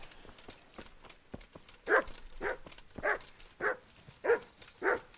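Dog barking in the medieval role-playing game Kingdom Come Deliverance: a series of six fairly evenly spaced, moderate barks, preceded by softer footsteps and ambient game sounds.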